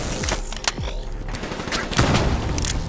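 Gunfire in Call of Duty: Black Ops 3, rapid bursts of automatic shots and sharp impacts crackling close and loud over a whooshing battle backdrop across a few seconds.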